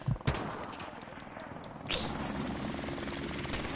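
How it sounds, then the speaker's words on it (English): Helicopter in the Call of Duty: Modern Warfare Remastered video game, a faint rapid rotor chop under sharp gunshot cracks at the start and near the two-second mark, all fairly quiet. "Helicopter on the way."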